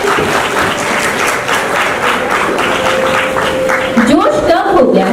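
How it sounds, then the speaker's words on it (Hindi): Audience applause in a hall at a national excellence awards ceremony in India, a steady wash of clapping under a loud amplified announcer's voice, with a brief tonal musical sound rising near the end. "तालियां थक गई लगती हैं।"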